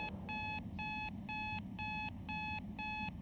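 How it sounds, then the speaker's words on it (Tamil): An alarm clock rings in the horror photography video game Fotomaly, a faint, steady electronic beep pattern of about seven evenly spaced pulses over a low background hum. "அலாரம் அது."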